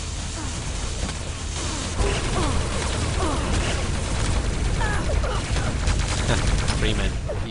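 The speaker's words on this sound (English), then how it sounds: "utilising that plasma gun to full effect" Weapons fire in a Quake Live team deathmatch, including plasma gun shots, a dense, continuous barrage of rapid energy blasts and mechanical pops mixed with chirping game effects, loud and steady.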